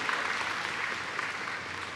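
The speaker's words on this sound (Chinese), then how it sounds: "请大家给他们最大的掌声，谢谢他们对台湾所做的奉献" An audience at Taiwan's 2024 National Day ceremony applauds honoured overseas educators, producing a steady wash of many hands clapping that stays even and sustained with no voices above it.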